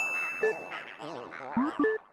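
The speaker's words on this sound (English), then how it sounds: "How is this phone ringing during a blackout?" A phone rings in Luigi's Mansion with bright electronic chiming tones that sound amid other game sounds.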